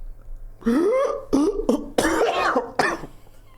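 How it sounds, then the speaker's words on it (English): A few harsh, throaty coughs in quick bursts, close and fairly loud, with short pauses between them. "That was a genuine cough there"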